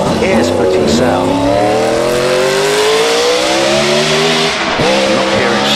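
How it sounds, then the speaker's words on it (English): A BRM racing car, a replica of a 1949 design, screams past at the Prescott hillclimb, its loud engine note rising and sweeping in a sustained, ear-splitting howl up close. "So here comes the BRM. You can hear the sound of it."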